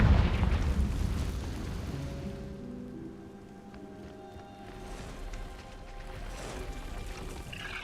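Confringo, a fire spell in a Hogwarts game, bursts at the very start with a heavy low blast that quickly fades into a quieter rumbling background.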